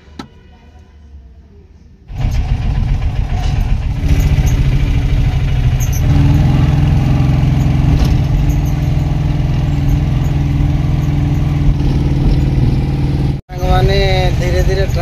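Road traffic and engine noise heard from inside a moving auto-rickshaw on a busy city road, a loud continuous drone that starts abruptly after a quiet opening, with a brief cutout near the end.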